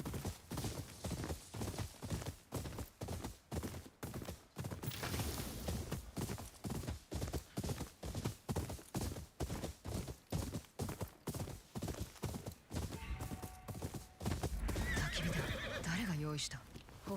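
A horse in the video game Ghost of Yotei gallops with a steady run of clip-clop hoofbeats for most of the stretch, and neighs and whinnies break in near the end, while someone talks over it.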